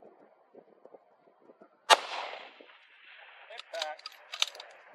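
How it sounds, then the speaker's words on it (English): One sharp, loud precision rifle shot cracks out at an outdoor NRL rifle match, with a ringing tail afterward and a few quieter clicks and metallic pings following it. "I prepare to take the next shot using the reduced wind value."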